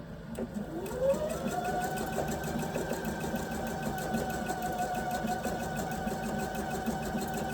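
Sewing machine piecing small quilt blocks with sashing strips, a steady rapid mechanical whir running continuously for several seconds, close and moderately loud.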